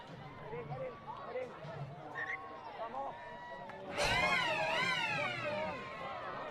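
A full-time siren sounds at a women's rugby league match, a loud rising wail cutting in partway through over crowd noise and commentary.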